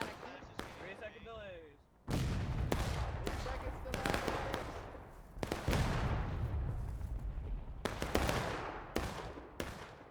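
Musket volleys from the video game War of Rights boom and crackle across a large battle, with repeated loud cracks and rolling reports, some near and some distant, as a voice talks over parts of it.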